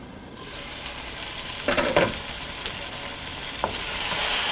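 Duck peralan, a thick spiced duck preparation, frying in a pan with a constant hissing sizzle. A few short scrapes and taps of stirring stand out, and the frying swells louder toward the end.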